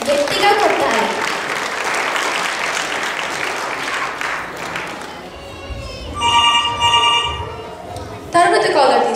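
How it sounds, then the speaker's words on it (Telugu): An audience claps at a Telugu cultural program, with steady sustained applause under a host's voice, followed by a brief telephone ring and electronic tones. "అందరూ ఒకసారి చప్పట్లు గట్టిగా కొట్టాలి."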